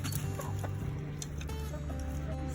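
Chickens cluck and murmur in a steady, busy chorus close by, with a low constant hum running underneath.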